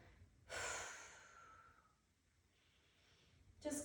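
A deep exhale during a yoga-style forward fold, one long breath out that swells and slowly fades, followed by a quieter inhale and the start of another breath, close and soft.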